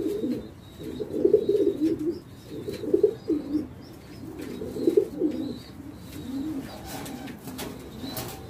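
Pigeons coo in a loft in repeated low, rolling phrases at close range, with faint higher chirps and light rustling in between and no one speaking.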